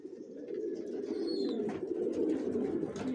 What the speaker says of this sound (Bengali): original racer